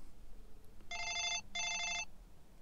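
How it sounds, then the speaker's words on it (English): A home telephone ringing on a Wi-Fi call placed through a 3G/4G hotspot, two electronic ring bursts, clear but fairly quiet against a near-silent room. "It's ringing the phone."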